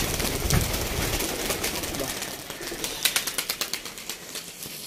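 A flock of large domestic pigeons released from a rooftop loft flaps off in a flurry of wingbeats, ending in a string of rhythmic flaps, with soft cooing mixed in and no talk.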